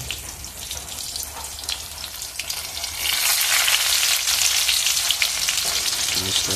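Potatoes and onions sizzle in hot oil for a Bombay duck fish curry, a steady close crackling hiss that swells noticeably louder partway through and keeps going with no talking.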